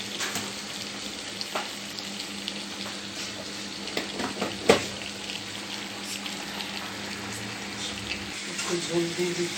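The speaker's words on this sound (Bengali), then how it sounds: "হালকা একটু পানি দিয়ে ঝোল দিচ্ছি" Water is poured into a sizzling pan of fish curry to make the gravy. The frying hiss continues under splashes and occasional stirring clinks, with a brief sharp knock near the middle.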